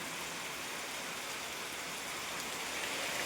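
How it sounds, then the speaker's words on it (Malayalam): Heavy rain pours down steadily outside a house in Wayanad, a dense, uniform roar of drops that fills the whole stretch and swells slightly toward the end, with no voices. "ഭയങ്കര മഴയാണ്"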